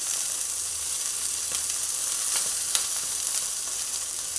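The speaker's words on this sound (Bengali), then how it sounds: "চাপা দিয়ে হালকা আঁচে এটাকে ফ্রাই হতে দিতে হবে।" Bhetki fish paturi frying on low heat in a covered pan, a steady, even sizzle and hiss throughout with faint crackles and small pops, close and alone without voices.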